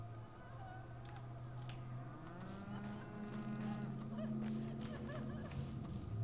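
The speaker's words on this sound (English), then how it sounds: "I hear a cow." A cow in the video game Pathologic 2 lets out long, low, drawn-out moos, heard fairly loud over faint ambient game sound, with no one talking.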